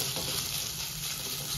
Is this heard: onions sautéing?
yes